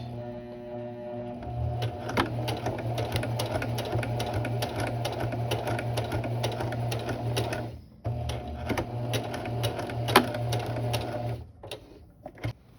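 A sewing machine back stitching a Kakashi jonin vest runs in a steady rapid whirring chatter, close and continuous, with a brief pause midway before it resumes and stops near the end.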